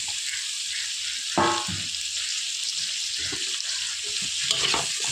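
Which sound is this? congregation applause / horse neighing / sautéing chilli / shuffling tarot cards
sautéing chilli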